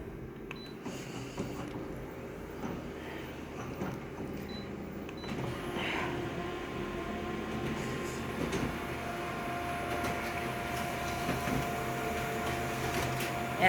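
A small printer running while printing an ice block flyer image, a continuous mechanical whir and hum that rises slightly over the span, with faint rattles and no talking.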